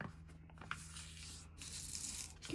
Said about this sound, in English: Then you want to turn it this way and fold it again